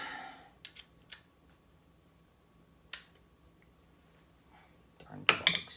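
A metal socket for a Lincoln LS coolant pump job being picked up and handled, giving a few sharp separate clinks and then a louder cluster of metallic rattles near the end, close by in a quiet space.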